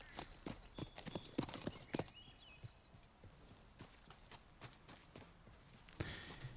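Horse hooves clip-clopping in Red Dead Redemption 2, a run of crisp, uneven hoofbeats close up at first, then softer steps, with a brief rustle near the end.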